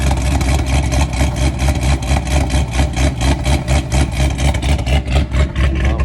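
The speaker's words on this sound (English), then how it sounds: "This is what the vehicle sounds right now as a stage 4 cam GTR." A 2015 Chevrolet Camaro with a stage 4 cam runs loud and close, its lumpy, choppy idle pulsing in a steady uneven rhythm with no talking over it.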